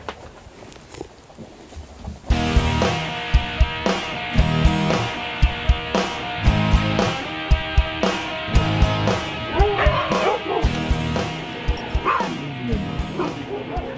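Sled dogs at a race veterinary check bark, yip and whimper excitedly and almost continuously, loud and close, with a voice speaking French over the din.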